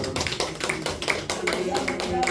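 A church congregation claps together at a joint evangelism rally, a run of sharp, fairly regular claps under light ambient room noise with faint tonal sounds in the background.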